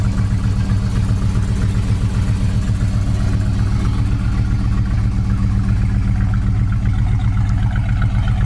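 A 1969 Dodge Super Bee with a 440 six-pack engine, 4-speed and dual exhaust idles in a steady, deep, continuous rumble, close and loud throughout with no voices.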